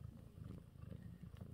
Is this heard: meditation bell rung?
no